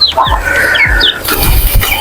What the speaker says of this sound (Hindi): और देसी चूजे, देसी मुर्गी, इसके साथ साथ बत्तख, मुर्गियाँ, चूजे